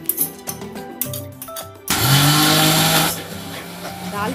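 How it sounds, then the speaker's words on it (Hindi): A kitchen mixer grinder grinds soaked moong dal for samosa filling. Mixed sounds lead into a sudden loud, steady whirring motor that drops to a lower hum after about a second. "अब उसको मिक्सर ग्राइंडर में डालकर"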